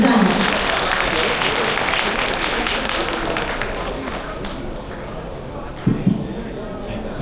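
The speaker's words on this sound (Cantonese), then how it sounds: "熱烈掌聲有請黃先生" Warm audience applause welcoming a speaker at an automotive battery and tyre trade association's inauguration and anniversary gala, a dense wash of clapping that slowly thins, with a few louder knocks near the end.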